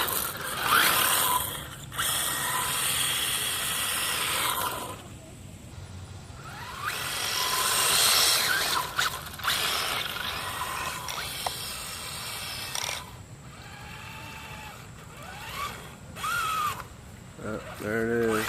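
WLtoys 12428 RC drift car with a dragging front wheel gives a whirring, ratcheting motor and gear buzz in uneven bursts that rise and fall, with speech in between.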